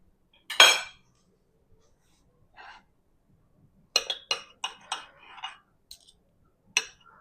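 Metal cutlery clinks and rattles as someone rummages for a knife in a kitchen where portobello mushroom steaks are being cooked, with one louder clatter followed by a cluster of light, close chinks amid silence.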